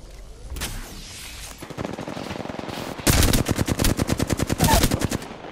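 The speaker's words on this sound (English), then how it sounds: "And I hear the gunshots from the team you were talking about." Gunfire in Apex Legends, starting with scattered shots and building into loud, rapid automatic bursts with a sharp, evenly spaced rhythm close by.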